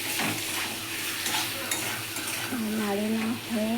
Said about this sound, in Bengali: এবারে দেবো জিরা গুঁড়ো। এবার একটু ভালো করে নাড়িয়ে নিই।